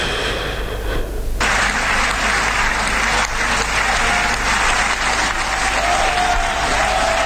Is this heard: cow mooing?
no